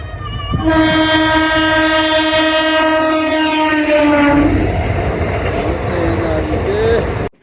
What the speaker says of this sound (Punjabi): ਆ ਗਈ ਟ੍ਰੇਨ